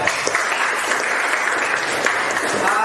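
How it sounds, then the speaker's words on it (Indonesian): Steady applause from a group of people in a classroom presentation, a dense patter of clapping that holds at an even level throughout. "mari kita tepuk tangan untuk kita semua ya"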